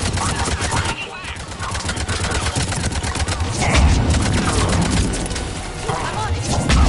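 Dense, rapid gunfire from Mass Effect 3 rattles continuously for several seconds, layered with explosive booms and shouted voices in a chaotic battle.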